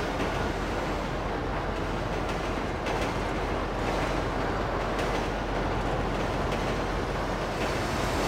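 In GTA Online, a train keeps rolling, giving a continuous heavy rumble and rattle of wagons at even loudness with no break and no voices over it.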